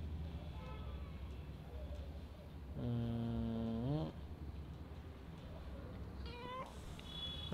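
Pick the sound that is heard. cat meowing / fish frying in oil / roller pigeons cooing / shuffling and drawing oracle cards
cat meowing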